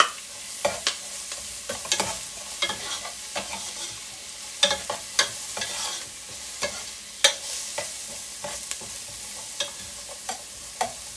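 Ginger sizzles and fries in a pan while it is stirred for tinolang manok, with a steady crackling hiss broken by frequent sharp scraping clicks of the spatula.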